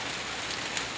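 Heavy rain pours down in Butuan City, a dense, steady hiss of drops striking surfaces, uniform and unbroken with no voices.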